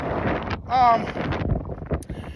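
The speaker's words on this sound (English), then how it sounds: "As you see, it's mad windy out." Gusty wind buffets the microphone with a low roar while a person talks over it.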